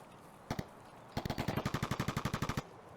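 Gunfire in a hardcore survival video game: a lone double shot, then a rapid run of roughly twenty evenly spaced automatic shots, moderately loud and heard at some distance with no talk.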